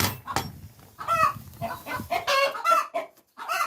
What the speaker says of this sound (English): They've gone really noisy now. Oh, look at that. These are my chickens.